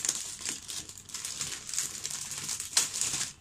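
A green screen bought online is unwrapped from its plastic package, producing close, continuous crinkling and rustling with a few sharper crackles, without any voices.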